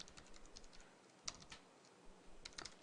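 Quiet, scattered keystrokes on a computer keyboard while writing C++ code, coming in short irregular bursts with a few louder taps and brief pauses, close and alone.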